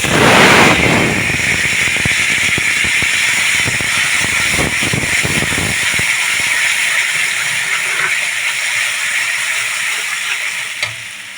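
Tomato and cashews hit hot oil in a pan with bay leaves and a dried chili, giving a loud, sustained sizzle and hiss with scattered crackles and stirring sounds that slowly ease off.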